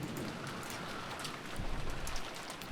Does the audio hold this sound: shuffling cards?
no